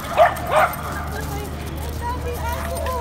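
Two sharp small-dog barks ring out close by at the start, followed by quieter yips and whimpers over a low steady hum.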